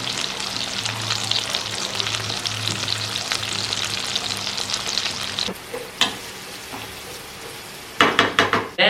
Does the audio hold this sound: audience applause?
no